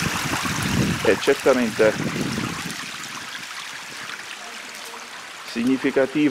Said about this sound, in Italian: dovere evidenziare questo spreco di acqua corrente